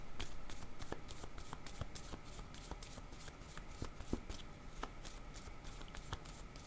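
Playing cards are handled and a card is drawn from a deck, giving quick, soft papery flicks and rustles in a rapid irregular patter, close and quiet throughout.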